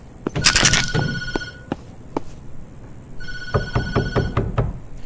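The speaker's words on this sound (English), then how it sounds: "I'm not gonna answer that phone." Telephone ringing in a horror video game: two bursts of electronic bell rings, the first loud and dense at the start, then a pause with a few isolated clicks, then a second, somewhat softer run of rings, with no talk.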